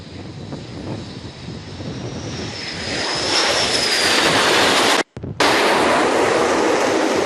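Military jet landing on an aircraft carrier deck at over 100 knots and caught by arresting wires, a loud roaring engine with a rising whine that swells and then breaks off abruptly before resuming.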